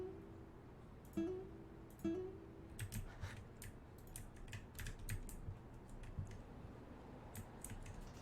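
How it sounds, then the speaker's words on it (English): Keyboard typing during a live stream of the game A Bewitching Revolution, heard as soft irregular key clicks in bursts, with two sharper clacks early on, over a low background hum. "typing ASMR"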